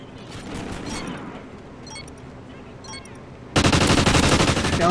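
Gunfire in a shooter video game during a Strikezone versus OpTic match: scattered distant shots crack early on, then a loud, close burst of rapid automatic fire erupts and continues to the end.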